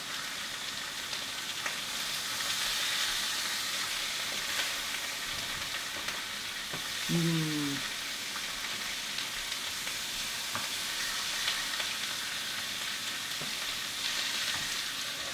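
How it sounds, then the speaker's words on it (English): Pork chops fry in a pan with a steady, moderately quiet crackling sizzle that continues throughout, broken by occasional pops and a brief low tonal clank midway. "let me check on my pork chops here"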